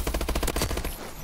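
Rapid burst of video game gunfire in a hardcore-mode shooter match, about a dozen close, loud shots in quick rhythm that cut off and leave a short quiet tail.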